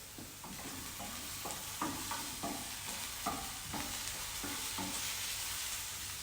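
Corned beef browning in a pan gives a steady, close sizzle and frying crackle, broken by a dozen or so quick stirring scrapes in an irregular rhythm, with no talking.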